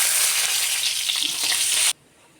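Dried red chillies hit hot oil in a pan for a Kerala chammanthi, a loud, close, bright sizzling hiss that runs steadily for about two seconds and then cuts off abruptly to near silence.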